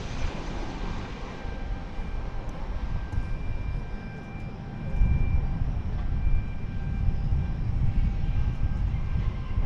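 An American Airlines Boeing 737-800 jet arrives at DFW Airport, a low, steady engine rumble with faint tonal whine, moderately distant and rising slightly partway through, with no talk.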